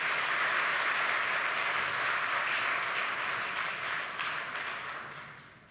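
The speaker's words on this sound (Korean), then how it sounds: "우리 형제님들 위해서 한번 박수 한번 해주십시오" Church congregation applauding the men's choir section during a Sunday worship service, a steady wash of many hands clapping that gradually thins and fades, with one sharp clap near the end.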